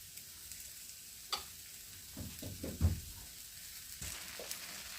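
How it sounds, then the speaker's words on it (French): A Breton buckwheat galette with sausage pieces and onion warming in a pan: a soft, steady sizzle with a few quiet clicks and stirring noises, faint and close. "J'attends 30 secondes que ma galette réchauffe et je vais venir mettre au milieu ici les morceaux de saucisse"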